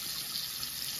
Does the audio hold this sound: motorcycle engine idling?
no